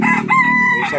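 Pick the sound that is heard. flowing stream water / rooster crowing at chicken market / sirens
rooster crowing at chicken market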